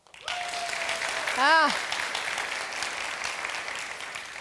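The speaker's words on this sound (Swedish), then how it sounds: "Kan alla klappa händerna som brinner för tillgänglighet då?" Audience applause at an accessibility innovation day event, steady broadband clapping throughout, with a brief voice calling out over it midway.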